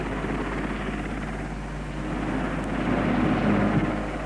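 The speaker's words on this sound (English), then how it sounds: "The chopper chunters away" A helicopter chunters away steadily after lifting a church spire into place at Ashridge, its low rotor thrum and engine drone filling the air as a continuous, fairly loud rumble that swells slightly toward the end.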